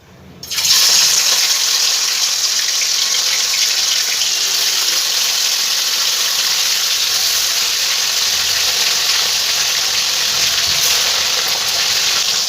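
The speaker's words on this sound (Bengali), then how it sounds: "এই পর্যায়ে আমি মাছগুলো সব ভেজে নেব।" Rui fish pieces hit hot oil in a wok on the stove, setting off an abrupt, loud hissing sizzle that holds steady and close for the whole stretch.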